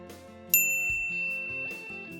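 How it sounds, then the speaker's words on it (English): A bright notification bell ding strikes once with a sharp attack and rings on with a sustained metallic tone, layered over steady background music. "ring the bell to be notified about our latest videos"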